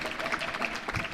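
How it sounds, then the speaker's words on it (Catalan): Audience applause at a live podcast recording at a university venue in Raval, a steady dense patter of clapping filling the short moment with a faint voice underneath. "Hi ha hagut aplaudiments"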